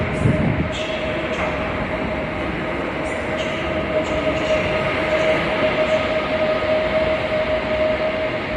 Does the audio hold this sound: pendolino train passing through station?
yes